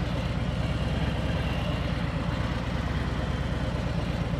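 A motorcycle engine idles steadily with the clutch wide open and no throttle, a continuous low, even rumble close by with no talk over it.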